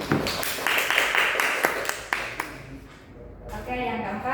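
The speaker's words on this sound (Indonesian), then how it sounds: "Ya, tepuk tangan buat Nanda." A classroom of students claps for a classmate named Nanda: a quick burst of scattered hand claps that fades after about two seconds, followed by a voice speaking.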